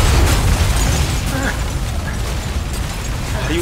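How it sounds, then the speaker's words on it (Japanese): A big explosion erupts in the horror video game Until Dawn, a loud, rumbling blast that rolls on as a heavy low roar with crackling debris, and a player speaks briefly over it. "爆発ね"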